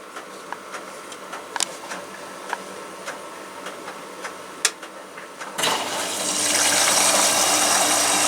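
An Electrolux washing machine on an extra rinse cycle gives a series of faint clicks and ticks, then water suddenly gushes in with a steady, rising hiss of filling.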